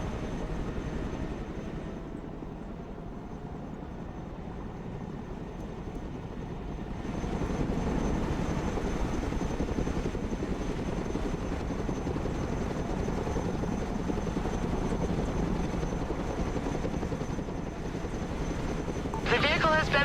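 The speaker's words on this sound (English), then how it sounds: "Chinook is mission ready." A Chinook helicopter in the video game Broken Arrow gives off a continuous rotor and engine drone. The drone grows louder and fuller partway through, under game voices.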